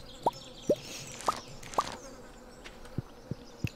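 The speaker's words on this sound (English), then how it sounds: "Bees." Bees at an apiary in Stardew Valley make a string of short, evenly spaced game sound effects, a few quick rising chirps followed by soft plops, each brief and distinct over quiet ambience with no voices.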